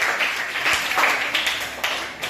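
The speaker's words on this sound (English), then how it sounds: "Give a clap" A classroom of sixth-grade students clapping together for a classmate during a science lesson, a dense burst of overlapping hand claps that holds steady for a couple of seconds.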